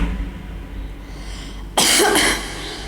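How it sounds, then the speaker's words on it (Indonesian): A single sharp cough bursts out after a quiet stretch, loud and close, then trails off into a short rasp. "batuk."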